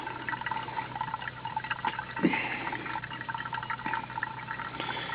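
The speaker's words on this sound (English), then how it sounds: "hot water filtered through coffee grounds equals coffee" Steady trickling hot water pours continuously through coffee grounds, a soft liquid stream with faint gurgles and small drips, close by and without voices.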